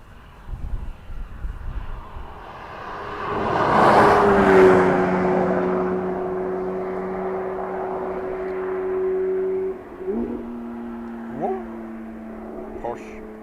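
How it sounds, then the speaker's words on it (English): An Aer Lingus airliner lands at Dublin Airport, its engine roar swelling to a broad rush, then settling into a sustained steady whine that holds before shifting pitch as the jet rolls out. "Aer Lingus from Rome will be next to land."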